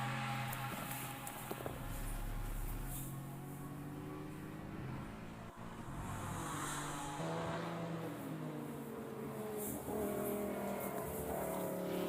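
Race car at speed on the final lap of the 2020 Hankook 12 Hours at Mugello, a steady engine drone from trackside, fairly faint and continuous with slight rises and falls.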